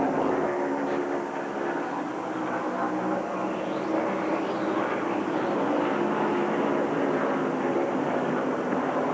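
A steady, loud helicopter drone fills the whole stretch high above Atlanta Motor Speedway during a 1994 ARCA race, a continuous engine roar with no breaks.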